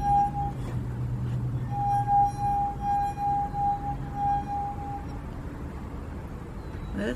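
A wet finger rubbing the rim of a wine glass that is not very full draws out a pure, steady ringing tone that swells for a few seconds, then fades out.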